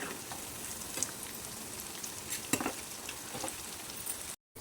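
Sabudana fasting bhaji frying in hot oil, a steady close sizzle with occasional soft clinks of a utensil against the pan.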